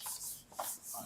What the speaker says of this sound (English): Let's just erase this.